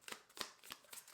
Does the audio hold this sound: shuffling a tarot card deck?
yes